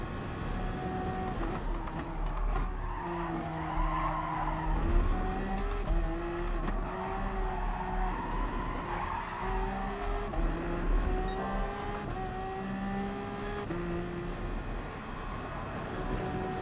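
A GT3-class race car in GT Sport brakes hard at the Nürburgring or Suzuka, its engine droning steadily as shifting tones ride on top and light tire squeal edges in, continuous and close.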